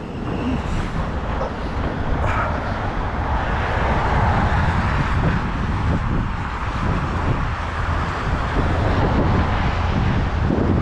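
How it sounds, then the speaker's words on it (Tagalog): Strong wind buffets the microphone in a constant low roar near a stoplight in Canada, with faint traffic rumbling underneath throughout. "Malakas yung hangin."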